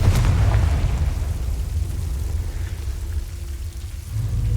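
A Confringo blasting spell in Hogwarts Legacy goes off as a loud, close explosion with a heavy low rumble that fades into crackling debris over several seconds, no voices present.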